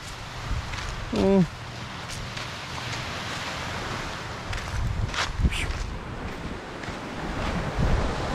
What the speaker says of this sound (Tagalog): Malakas-lakas lang ang dagat natin ngayon.